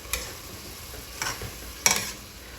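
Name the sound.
stirring Philly cheesesteak filling in a sizzling pan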